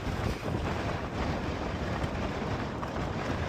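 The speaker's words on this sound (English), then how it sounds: "that wind about blows you over" Strong wind buffeting the microphone while riding an e-bike on mountain trails outside Denver, a loud continuous roar and rumble with no other sounds.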